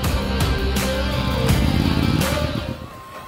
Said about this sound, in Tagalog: make sure na malayo ang buga ng blowtorch